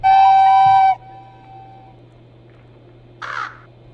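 Crows caw in the video game Sylvio 5: one long loud nasal caw opens the clip, then a faint lingering tone, and a shorter, harsher caw comes near the end, with no speech.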